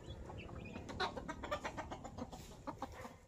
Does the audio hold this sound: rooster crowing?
yes